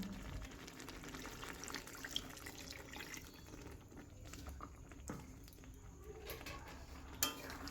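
Hot water poured into a chicken curry gravy in a home kitchen, a steady broad splashing rush that runs throughout with a few small clinks and knocks of a pot or utensil.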